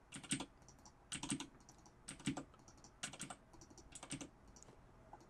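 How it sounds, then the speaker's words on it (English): Playing cards being shuffled during a tabletop card game: five quiet, crisp riffling bursts about a second apart, near and isolated with no speech. "I'm going to give each of these a quick shuffle."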